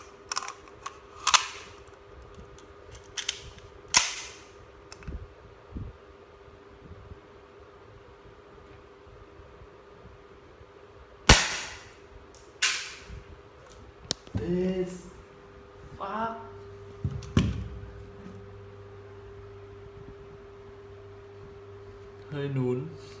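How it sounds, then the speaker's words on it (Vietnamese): A Desert Eagle pistol fires at an iPhone 5S, a single sharp loud shot standing out against faint background noise, with scattered handling knocks and brief talk nearby. "test thử khẩu súng mình mới mua và con iPhone 5S xem uy lực nó ra sao"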